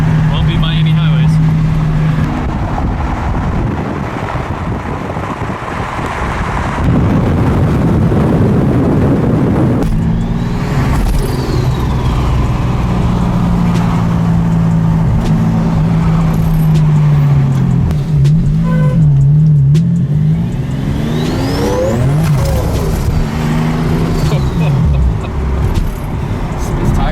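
A V12-powered Toyota Supra rumbles and revs from inside the cabin during a ride along, rising and falling through several throttle bursts while people talk over it.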